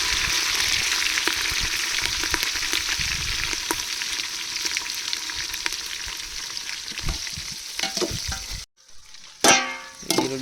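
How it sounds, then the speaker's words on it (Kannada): Curry leaves and green chillies sizzle in hot oil with cumin and mustard seeds for tomato bath, a loud continuous hiss with scattered pops and stirring clatter, briefly dipping near the end. "ಕರಿಬೇವು ಹಸಿಮೆಣಸಿನ್ಕಾಯಿ ಹಾಕಿದ್ದಾರೆ"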